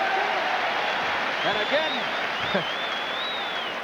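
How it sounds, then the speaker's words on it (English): A cynical cheer and applause rise from the crowd at Madison Square Garden during a 1994 playoff hockey game between the Washington Capitals and New York Rangers, a broad, steady roar under a commentator's voice. "a cynical cheer from the crowd here at the Garden"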